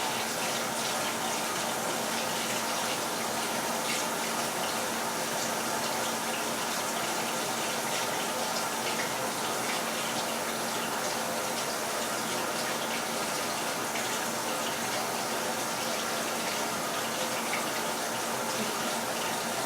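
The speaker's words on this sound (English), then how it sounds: "I'm not going to bore you with standing here and watching me pouring down water for the next 20 minutes" Water runs steadily into a film developing tank, rinsing fixer from developed film, as a continuous close hiss and splash with no pauses and no voices.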